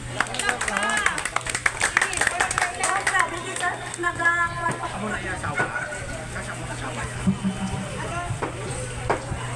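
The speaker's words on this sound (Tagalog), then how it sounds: "Ah, palakpak naman." A small family gathering at a residence claps briefly in scattered, uneven bursts near the start, with people talking throughout and a steady background hum.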